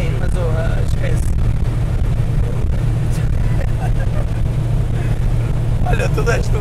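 A Renault 4L car fitted with an Alpine turbo engine runs with a steady, loud low drone that holds throughout, while voices talk over it.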